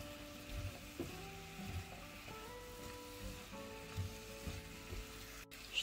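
Small potato pieces frying in a pan, a quiet, steady sizzle with occasional soft stirring knocks, and a faint hum underneath.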